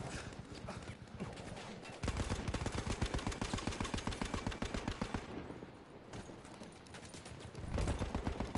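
Rapid gunfire in a friendly online war game match, dense repeated shots in sustained bursts with a brief lull in the middle, loud and continuous.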